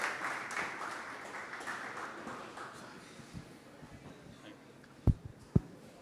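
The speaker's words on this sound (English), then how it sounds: "Round of applause, please." Audience applause at a startup event session, fading out over the first few seconds into quiet room tone, followed by a couple of sharp knocks or taps near the end.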